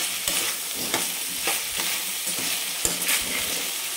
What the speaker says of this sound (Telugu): హై ఫ్లేమ్లో పెట్టుకొని కొద్దిసేపు తిప్పుకోండి